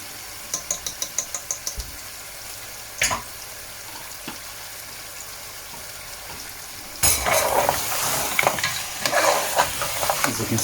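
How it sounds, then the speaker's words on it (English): Lamb meat frying with spices in hot mustard oil, loud sizzling and stirring after a run of quick clinks and a single knock, with the sizzle flaring sharply partway through and continuing close and steady. "I'm going to fry the meat with the spices for a few seconds."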